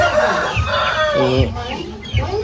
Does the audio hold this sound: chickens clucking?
yes